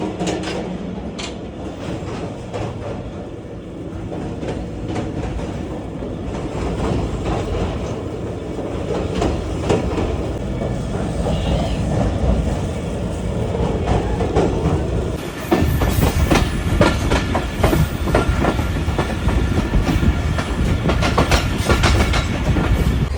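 An express train crosses the Malli river bridge, heard from inside a coach as a steady, loud rumble with rhythmic clickety-clack of wheels, growing harsher and more rattling toward the end.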